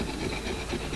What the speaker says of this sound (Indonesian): digosok pakai amplas biar lebih